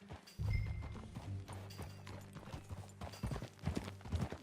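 Horse hooves clip-clop at a steady walking rhythm, close by, over quiet ambient background sounds, in the video game Red Dead Redemption 2.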